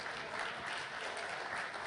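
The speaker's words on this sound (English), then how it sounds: "That deserves a golf clap." Audience at a Lotusphere 2011 conference demo applauding, a steady wash of clapping from a modest crowd that holds evenly through the clip, with no voices over it.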